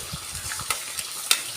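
Garlic frying in hot cooking oil in a pan, a steady soft sizzle with a few sharper crackles and stirring clinks, heard close with no talking.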